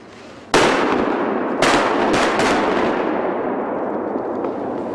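Shotgun blasts during a duck hunt, likely from a boat: four loud, close shots, one single and then three in quick succession, each followed by a long rolling echo.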